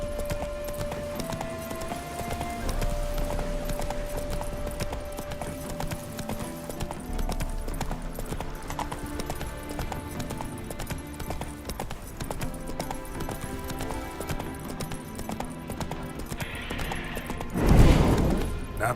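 Roach, Geralt's horse in the video game The Witcher 3, clip-clops along in a steady hoof rhythm over game music, ending in a brief louder crash.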